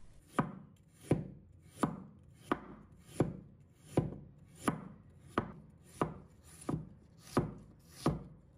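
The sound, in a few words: knife slicing fresh ginger on a board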